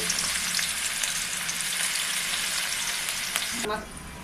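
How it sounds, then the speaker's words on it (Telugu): Chopped onions fry in a pan with a steady, loud broadband sizzle and a few scraping stirs, the crackle dropping off sharply near the end. "ఆనియన్స్ని బాగా డ్రై అవ్వనివ్వండి"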